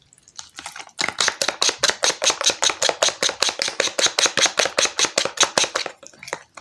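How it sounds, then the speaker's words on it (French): A homemade hair-growth cream with butter is beaten vigorously in a bowl, making a steady, fast run of about thirty sharp, evenly spaced strokes, loud and close with no talking. "En fait, vous allez le mélanger correctement. Faites-en un bon mélange."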